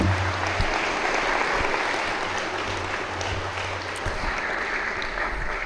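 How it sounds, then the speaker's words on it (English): Sustained applause from an audience at a district attorney candidates' debate hosted at St. Joe's, steady dense clapping filling the room after two speakers are welcomed to the podium, with a low hum underneath. "Let's give them a round of applause."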